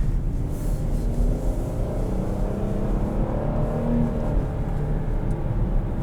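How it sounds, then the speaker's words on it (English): A 2020 Cadillac XT6 Sport engine rumbles steadily from inside the cabin as the transmission downshifts in performance mode, a continuous low drone with mild rises in revs and no talking. "it will put it into a performance transmission mode. Where it's going to downshift."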